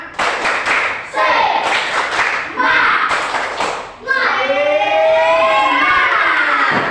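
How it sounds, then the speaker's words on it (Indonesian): A class of children claps a quick rhythmic spirit chant in a classroom, several bursts of sharp hand claps mixed with young voices, followed by a teacher speaking over a steady background. "Satu kali lagi. Tepuk semangat."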